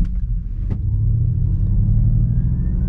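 A 2021 Ford Mustang Mach-E electric car pulls away hard in one-pedal drive with traction control off, a steady loud low rumble and synthetic propulsion hum that rises smoothly over a few seconds.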